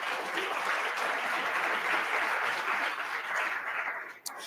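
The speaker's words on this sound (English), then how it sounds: "So let's give them a big round of applause." Steady audience applause at an event, a dense field of many hands clapping at an even level for several seconds before it tapers slightly near the end.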